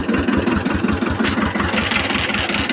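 A tractor engine chugs steadily nearby, a loud rhythmic diesel rumble with quick regular pulses.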